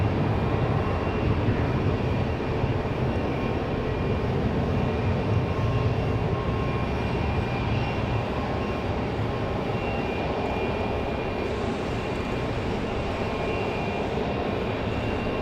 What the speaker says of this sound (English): Nice, smooth, easy departure for Envoy.